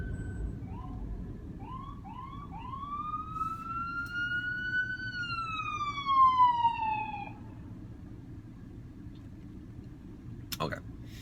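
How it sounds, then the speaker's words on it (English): An ambulance siren sweeps past on a city street during a morning drive, a clear rising-and-falling wail over steady car engine and road rumble, moderately near then fading. "And here comes an ambulance."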